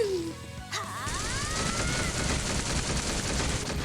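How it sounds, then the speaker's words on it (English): A shotgun attack in the Trails to Azure video game, opening with a sharp crack and falling whoosh, then a dense, sustained barrage of blasts and crashing impacts, loud and continuous. "here comes the shotgun"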